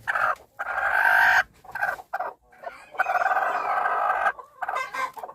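A broody bantam hen on her eggs makes loud, close, drawn-out grumbling clucks and scolding calls in repeated phrases with short gaps, and no one speaks.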